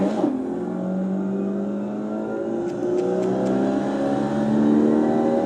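A Formula Vee race car in iRacing at Summit Point drones up through the revs, its engine note climbing steadily in a continuous, close acceleration with faint clicks partway through.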